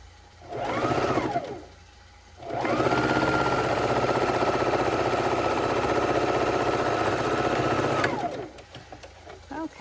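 A sewing machine stitching quilt fabric runs in a short burst, pauses, then hums steadily for several seconds before stopping; close and fairly loud, no talking.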